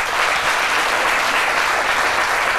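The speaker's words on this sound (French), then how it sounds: "Ah, quand même, ça s'applaudit." Dense, steady applause from an audience at a make-up and fashion event in Abidjan, loud and continuous throughout.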